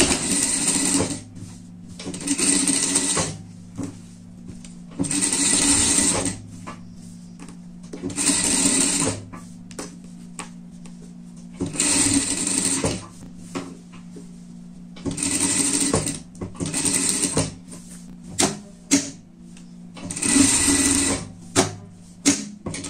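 A sewing machine stitches a small fabric pet outfit, running in repeated bursts of rapid close whirring, about a second or two each, separated by short pauses, with faint handling noises between runs.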